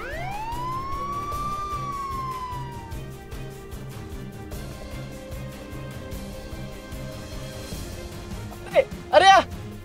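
Ambulance siren in an animated story: a rising and falling electronic wail at moderate distance, followed by a low steady engine drone and a short burst of chirps near the end, with voices talking over it.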